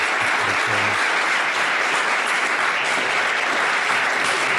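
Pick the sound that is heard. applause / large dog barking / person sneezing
applause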